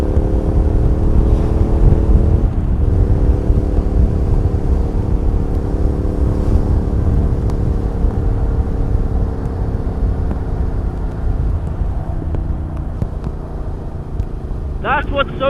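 A Triumph Speed Twin motorcycle rides past cars in traffic, its engine droning loud and close with steady harmonic tones that dip and shift as the revs change, and a brief rising whine near the end.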